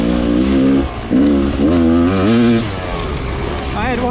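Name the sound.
Rieju 300 dirt bike engine revving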